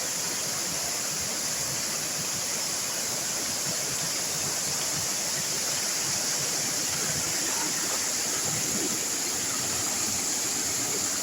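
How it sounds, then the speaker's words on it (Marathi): Steady, dense rush of a forest waterfall in rain, fed by streams and running water, holding an even level throughout with no voices. "वरना जंगल पानी झरे एकत्र होता वॉटरफॉल बनता"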